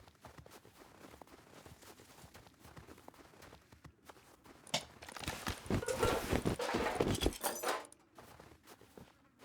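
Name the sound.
horse hooves walking in Rust video game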